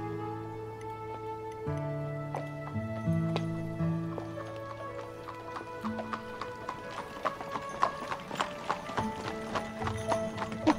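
Horse hooves clip-clopping steadily while pulling a hansom cab, with bells jingling alongside in a bright, continuous rhythm that grows busier toward the end, close by and without talk.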